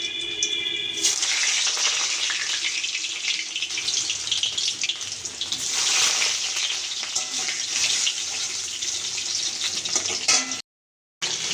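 Potato pieces frying in hot oil for a Bengali egg dish give a dense, continuous sizzling hiss close by, loud and even throughout, with one brief cut to silence near the end.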